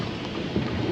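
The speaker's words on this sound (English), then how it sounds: "Got a solid storm." A thunderstorm in the Nebraska sandhills brings steady heavy rain hitting surfaces with low rumbling thunder underneath, a dense, loud wash of sound heard close by with no voices.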